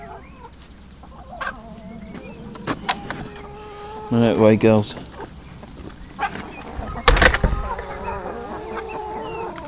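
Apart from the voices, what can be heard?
chickens clucking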